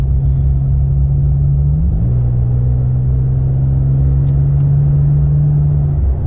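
A Toyota Tacoma drives on the road in sport mode in 4th gear, its engine a loud, steady low drone from inside the cab, with a brief pitch shift early on before settling again.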